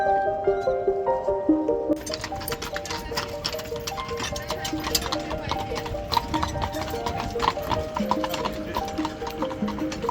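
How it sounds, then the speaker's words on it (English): Horse-drawn carriages clip-clop steadily along a Vienna street near the Habsburg summer residence, a continuous run of hoof beats with a horse whinny early on, mixed with nearby chatter and town bustle. "Nice, some horse carriages."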